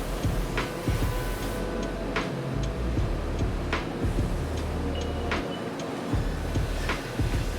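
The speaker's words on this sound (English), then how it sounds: "In the second operation, the ends of the tool are milled and drilled, then checked for tolerance within the CNC mill." A CNC mill machines and drills the ends of a steel scribe tool, giving a continuous low machine hum broken by sharp rhythmic ticks and clicks at irregular intervals, close and fairly loud.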